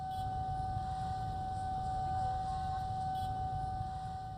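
A steady railroad crossing warning siren holds continuously, with a low rumble of traffic or background noise underneath.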